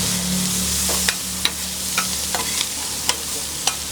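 Sisig frying in a pan with seasoning, pepper and soy sauce, a loud continuous sizzle with a low hum and several sharp spatula clicks as it is stirred, no voices.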